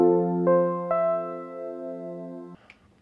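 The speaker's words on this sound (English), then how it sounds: "So here's the sound of piano 1." Piano 1 preset on a Korg DP-3000c digital keyboard plays a few sustained piano notes, struck in quick succession and ringing together before cutting off, clear and alone.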